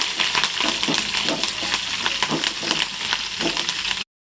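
Spices, dried red chillies, onions and curry leaves sizzle steadily in hot oil in a pan, tempering for carrot dal, with light stirring scrapes, close and constant until the sound cuts off abruptly.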